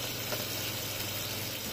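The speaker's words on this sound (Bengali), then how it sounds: "আমি পেঁয়াজটা ফ্রাই করে এগুলো দিয়ে দিলাম, আর এগুলোকে একটু কষানোর মধ্যে একটু ফ্রাই করে নিলাম" Onion, capsicum and tomato fry in a pan with a steady, close sizzle and hiss that runs unbroken throughout, with no talking.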